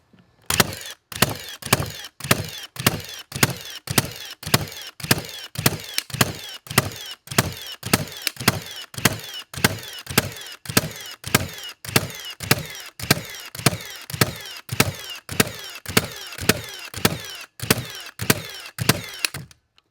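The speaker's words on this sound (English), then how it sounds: "now let's try the Milwaukee. Same thing, full strip. See how many nails it shoots." A Milwaukee cordless framing nailer fires a full strip of nails in a rapid, regular sequence of around thirty loud, punchy shots, each a sharp thump with a mechanical clack, close by.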